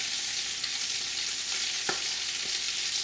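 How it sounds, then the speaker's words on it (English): Garlic, about forty cloves, sautes in oil in a pan, a steady close sizzle with light crackle and a brief stir or tap near the middle, no voices. "just let that start to saute"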